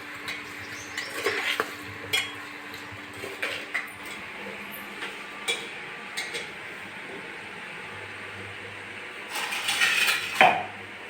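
Spoon scraping and clinking against a metal pot while potato curry is stirred, scattered sharp knocks over a faint sizzle, ending in a quick flurry of louder scrapes.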